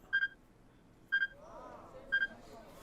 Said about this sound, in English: He heard the strange beeping sound again, subtly different than the first time, and this time it was closer.